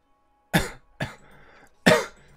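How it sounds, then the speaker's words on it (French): Three separate dry coughs from a person, close and fairly loud, each a short burst with quiet gaps between, the last one the strongest. "je m'excuse, j'ai une petite toux"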